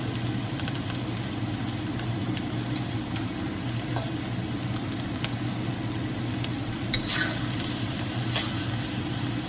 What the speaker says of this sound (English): So you lower the heat and thoroughly mix the rice with the spices.